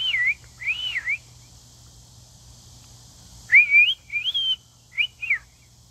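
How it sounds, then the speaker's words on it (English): A person whistles outdoors in short rising and falling bursts, two phrases, a pause, then three more quick ones, clear and fairly close over a quiet low hum. "And that's me whistling."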